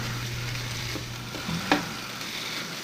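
Golden-browned turkey frying in a pan, an even, close sizzle with a low hum beneath it and a single sharp clink of a utensil partway through.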